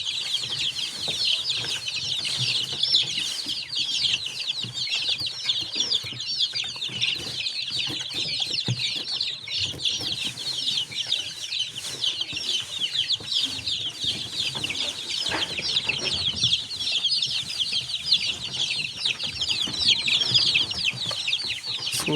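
A crowd of young chicks being treated for diarrhea cheep continuously and shrilly while drinking water, many thin high peeps overlapping at close range.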